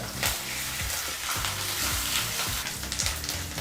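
Dried chillies, curry leaves and salt being stirred in a hot pan for shavige puliyogare, with a steady sizzle and repeated scraping strokes of the spoon against the pan.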